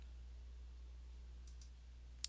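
A computer mouse clicks while muting or unmuting callers on a call-in show, a few faint, crisp clicks near the end over a low steady hum.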